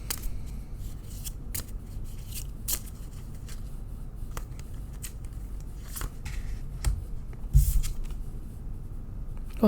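Tarot cards are shuffled by hand, giving a close, crisp run of papery flicks and riffles with irregular taps of card against card, no voice heard.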